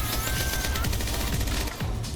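Continuous rapid gunfire from the Rampage weapon in the Apex Legends video game, a dense, loud, sustained burst of shots with no talking.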